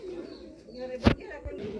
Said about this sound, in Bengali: এই দেখুন রাজশাহী গিরিবাজ কীভাবে ডাক মারে